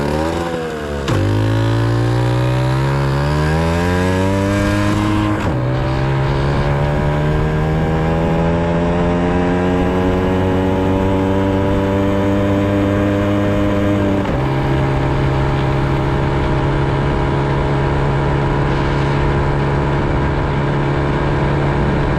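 A Yamaha PW80 or Jianshe 80 dirt bike engine revs hard and repeatedly to its maximum, its pitch climbing high and holding near the top before dropping, loud and close with no talking.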